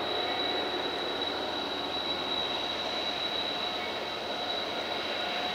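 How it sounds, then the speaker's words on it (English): A steady, continuous rumble of a passing freight train carrying timber, loud and unbroken throughout, with a faint high whine riding on top. "Got another train coming."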